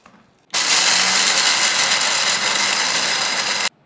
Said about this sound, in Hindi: इसको मिक्सी के जार में इस तरीके से डालेंगे और इसको हम अच्छे तरीके से ग्राइंड कर लेंगे